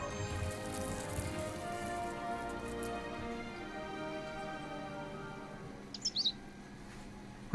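Short bird chirps from The Book of Unwritten Tales 2, a few quick tweets near the end over steady rain-like game ambience and music.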